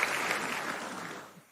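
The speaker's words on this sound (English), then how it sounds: "Give a round of applause for Steve and Tom Price, please" Studio audience applauding guests during a football chat show, steady broadband clapping throughout that tails off near the end.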